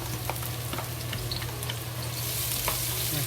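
Shallots and ginger fry in hot oil, a dense, continuous close sizzle with occasional crackles and stirring, no talking.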